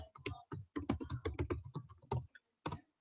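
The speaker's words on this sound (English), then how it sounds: "I'll just type it into the chat." A burst of quick clicking keystrokes on a computer keyboard, typed in close, uneven runs with a short pause before a final few taps.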